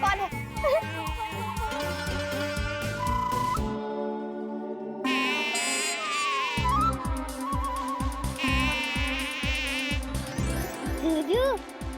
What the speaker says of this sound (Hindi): देखना, उठ, देख ये मच्छर कौन है।